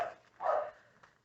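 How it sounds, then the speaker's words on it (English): Two dogs bark indoors in a house, giving a couple of short muffled woofs at middle distance, fairly quiet and with no talking. "both my dogs are barking"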